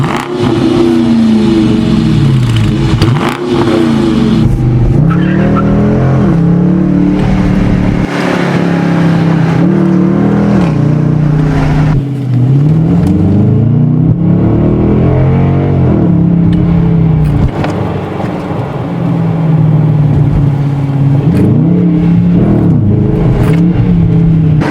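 A 2020 Dodge Challenger R/T V8 muscle car revved repeatedly, loud close engine roar rising and falling in several swelling revs with a rumbling idle between, sustained throughout without talk.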